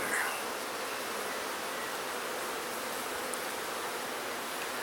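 Honey bees swarm around an open hive during an inspection, a dense steady buzzing hum that fills the air evenly, fairly faint and with no voices.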